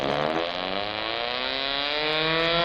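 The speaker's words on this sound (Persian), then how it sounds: "اینم صدای ماشینه" A car engine revs steadily, its pitch climbing slowly with a loud, continuous droning roar close by, no voices.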